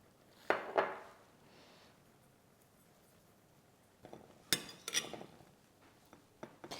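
A spoon works seasoned rice gently in a bowl, giving a few sharp clinks against the dish early on, then a cluster of light taps and scrapes near the end, quiet and close.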